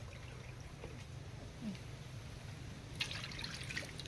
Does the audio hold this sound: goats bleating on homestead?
no